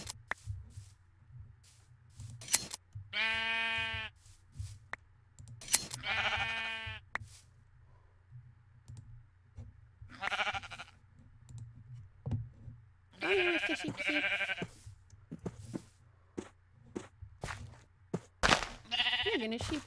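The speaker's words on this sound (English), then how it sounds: "We're gonna grab a sheep." Sheep in Minecraft give a few short, clear bleats that come and go among the other game sounds and a person's voice.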